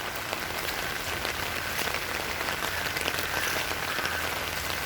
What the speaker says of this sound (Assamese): বহুত বৰষুণ মাৰি আছে